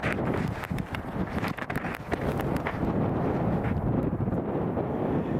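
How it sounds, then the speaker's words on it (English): Steady buffeting wind rumbling across the microphone outdoors at Edinburgh Airport, loud and continuous, with low roaring gusts and no talking. "It is just a little bit windy, just a tad on the windy side."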